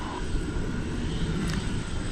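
An Airbus A321 airliner departing DFW Airport at night, bound for Phoenix, rumbling steadily as a broad distant roar that holds at an even level throughout.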